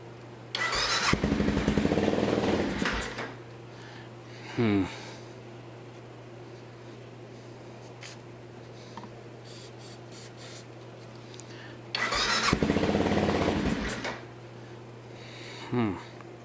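An Aprilia Pegaso 650 motorcycle engine cranks in two bursts of a few seconds each, turning over without catching because it is not getting fuel, with quieter pauses and faint background voices between attempts.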